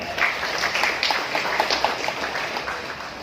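Hall audience at a women's college event clapping together, a continuous crackle of many hands at fairly close range, steady and lively throughout with no voices over it.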